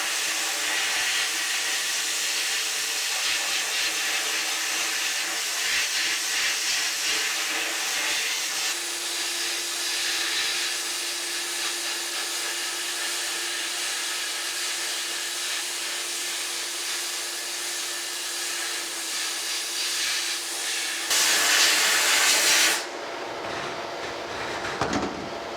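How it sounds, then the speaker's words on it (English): Metal planer parts being sandblasted with a nozzle worked by a foot pedal, a loud continuous roaring hiss of air and grit that shifts once partway through, then surges and cuts off near the end. "Got my sandblasting nozzle here. It's controlled by a foot pedal, and we'll just go ahead and blast these off."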